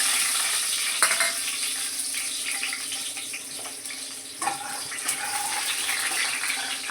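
Garlic fries in hot oil with a steady, close hiss of sizzling, broken by a few faint clinks and pops throughout.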